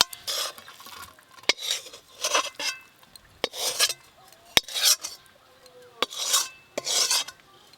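Coconut filling mixed with ghee being scraped out of a pan with a spoon, a series of rasping scrapes and sharp metal taps spaced every second or so, close and fairly quiet with no talk.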